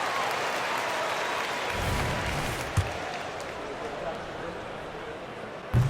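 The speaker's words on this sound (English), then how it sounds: "Applause, everyone." Steady crowd applause and cheering fill a basketball arena in the video game NBA 2K24 throughout, with a couple of brief thumps standing out near the end.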